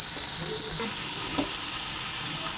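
Green chillies, cumin, turmeric and salt fry in a pan with a bright, steady hiss. The sizzle is loudest in the first second, then settles into a softer crackle with a few faint stirring scrapes.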